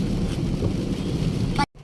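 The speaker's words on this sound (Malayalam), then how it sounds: "മഴ കൂടിക്കൂടി തന്നെ ഈ മഴയൊക്കെ കാരണം ഞങ്ങൾ വെള്ളപ്പൊക്കത്തിൽ പോകുന്ന തോന്നണേ അത്രയൊക്കെ മഴയായി" Heavy rain pours steadily during a drive to Kochi, a dense, loud roar that fills the clip before cutting off abruptly near the end.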